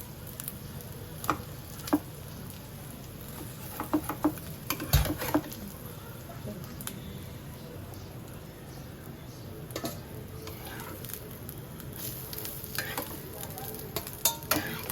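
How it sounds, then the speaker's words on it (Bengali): Eggs fry in oil in a pan with a soft, steady sizzle, punctuated by irregular clicks and taps of a utensil against the pan, close by and moderately quiet, without talk. "এভাবে সবকটা ডিম ভেজে নিয়ে নিচ্ছি"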